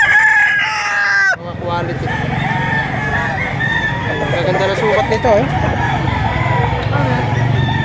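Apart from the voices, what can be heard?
roosters crowing and chickens clucking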